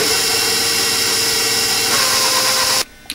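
An electric hand mixer beats flour into a thick batter for peanut chew bars, giving a steady, loud whirring drone throughout that cuts off abruptly near the end.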